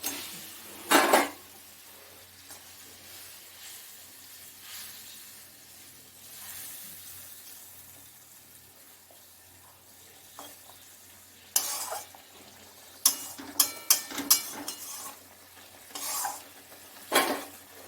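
Fish pieces go into a pan of frying spice paste thinned with a little water, giving a soft sizzle broken by sharp clinks and scrapes of a utensil against the pan, with a busy cluster of stirring knocks near the end.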